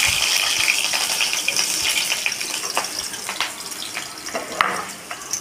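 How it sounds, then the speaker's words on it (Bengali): Cut potato pieces fry in hot oil in a wok, giving a steady close sizzle and bubbling crackle, with small clinks and stirring noises throughout. "টুকরো টুকরো করে কেটে রাখা আলুটা আমি গরম তেলের মধ্যে আস্তে আস্তে ছেড়ে দিচ্ছি"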